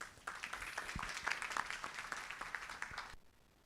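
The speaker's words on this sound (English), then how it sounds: "Please give him a round of applause." Audience applause at a tech networking event, a brief burst of many hands clapping, moderately faint and steady, fading out at the end with no talk over it.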